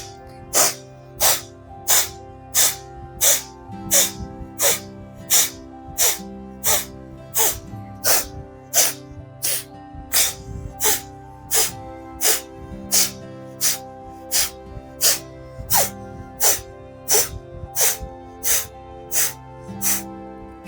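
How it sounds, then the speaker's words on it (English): Rapid, forceful nasal breathing through the left nostril in a yoga pranayama exercise, about 40 strokes per minute: a steady train of sharp, evenly spaced breath bursts, close and loud, over faint background music with no talk. "passively inhalation only through the left nostril at a speed of 40 strokes per minute"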